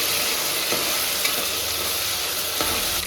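Ginger garlic paste fried in a pan for sweet corn pulao, a dense, continuous sizzle with faint stirring scrapes, close and loud, with no voices.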